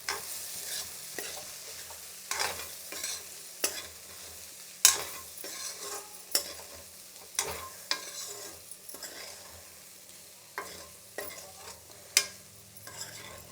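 Cooked tomato dal seasoned with chilli powder and salt being stirred in a pot: repeated scraping and tapping strokes of a ladle over a low simmering sizzle, close and without talk.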